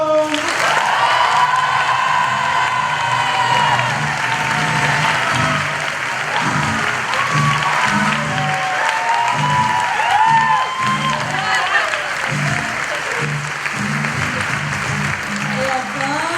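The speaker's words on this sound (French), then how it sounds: "On va faire un tonnerre d'applaudissements pour nos danseurs et danseuses!" A thunderous ovation for dancers at a student theatre show: loud, sustained clapping from a large audience mixed with cheers and whoops, and voices shouting over it throughout.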